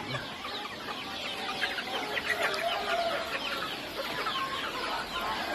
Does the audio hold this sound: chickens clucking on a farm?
yes